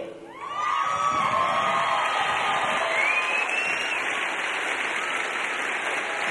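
A crowd in the stands cheers, claps and whoops at an Air Force coin ceremony for a graduating airman, loud and sustained throughout with some high shouts rising above the din.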